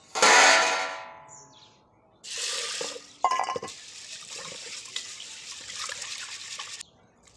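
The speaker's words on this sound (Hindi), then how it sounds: "ये गरम पानी में मैं इनको भिगोने के लिए डाल रही हूँ।" Hot water pours and splashes over black soybeans (kala bhatt) being set to soak in a home kitchen in rural Uttarakhand, coming in several bursts of splashing and trickling with short pauses between.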